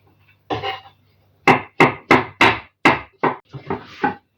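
Fresh raw button mushrooms being cut into quarters with a knife on a board for a simple salad: a close, crisp series of about eight sharp chopping knocks in an uneven rhythm, with no talking.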